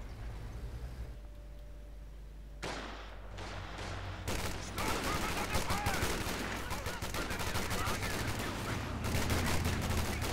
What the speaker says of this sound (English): Lots of fire there going in from the BARs